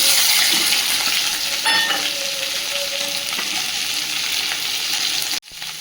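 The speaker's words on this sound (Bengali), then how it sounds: "তেলটা গরম হয়ে গেছে, দিয়ে দেবো শুকনো লঙ্কা, গোটা জিরে, পেঁয়াজ, রসুন" Dry red chillies, whole cumin, onion and garlic crackle in hot oil with a loud, dense, close sizzle and a brief clatter partway through. The hiss runs unbroken, then cuts off abruptly near the end.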